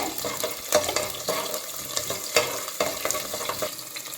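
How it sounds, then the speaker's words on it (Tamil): Small onions and garlic sauté in hot oil for a rice and lentil dish, giving a steady close sizzle broken by sharp scraping and stirring clatters. "நல்லா எண்ணெயிலே கொஞ்சம் நேரம் நல்லா வதக்கி விடுங்க."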